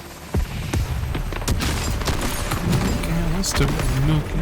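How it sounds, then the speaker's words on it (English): Deep booming blasts in Call of Duty: Modern Warfare go off in quick succession over a dense, rumbling battle din, with scattered sharp bangs and a constant low roar. "Explosions."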